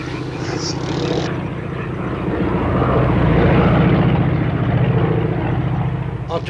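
A propeller airplane's engine drones loudly and close, a steady throbbing roar that swells in the middle and eases slightly toward the end.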